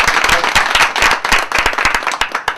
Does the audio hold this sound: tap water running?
no